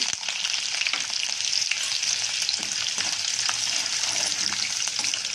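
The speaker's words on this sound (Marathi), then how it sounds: "तर आता आपण तेल गरम झालेले जिरे टाकून घेऊया मिरची शेंगदाणे" Cumin, chillies and peanuts fry in hot oil, giving a steady, loud, close sizzle with crackling spatter throughout and no talking.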